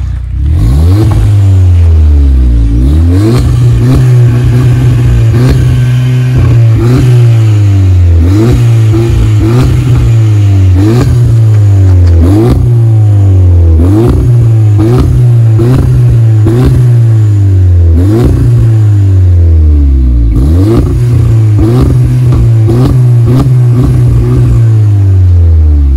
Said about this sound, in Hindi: तो अब मैं एक बार आपको रेव करके दिखाता हूँ,